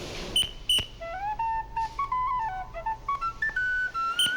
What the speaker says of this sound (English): when you whistle this way, then they know something wrong, they gotta stop the car